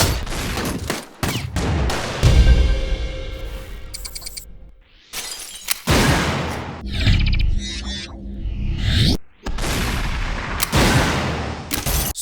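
Shotgun firing in SuperHot Mind Control Delete, a series of loud, sharp blasts separated by short gaps, mixed with crisp shattering and breaking impacts and reload clicks, close and punchy with no talking.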